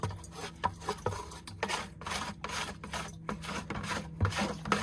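Mixed dipping glaze is scraped out of a container, a close, quiet run of rasping, rubbing strokes in an irregular rhythm with small knocks, no talk over it.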